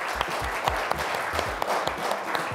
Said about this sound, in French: 30 personnes d'exception qui sont en face de nous, qui viennent d'applaudir